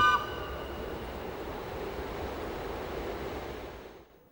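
A train rumbles steadily along the tracks in Switzerland with broad, continuous noise and a brief tonal whine at the start, fading out at the end.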